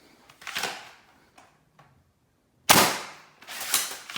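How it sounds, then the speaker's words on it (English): Foam dart blaster firing new red darts, three sharp pops: one at the start, a louder one near the middle and a third just after, with faint mechanical clicks between shots. "Firing the newer red darts."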